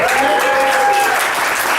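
A crowd applauds steadily at a school board candidate forum in Sarasota County, continuous dense clapping filling the room with a faint voice beneath.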